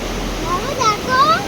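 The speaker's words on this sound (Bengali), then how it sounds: "একটু জল আসছে এখান দিয়ে" Water trickling and splashing beside a hanging footbridge near the Bhutan border in the Dooars, a steady rushing wash with faint voices in the background.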